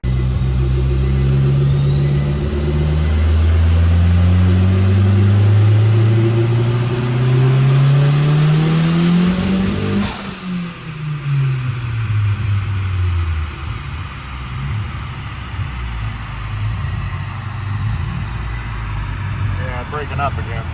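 A turbocharged Nissan Juke engine revs hard through a pull, a loud rising drone climbing steadily in pitch for about ten seconds before easing off and settling into a rough, lower rumble.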